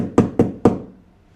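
Hard, stale ciabatta bread knocked three times in quick succession, each a dry, hollow rap that fades fast, close and alone with no talking.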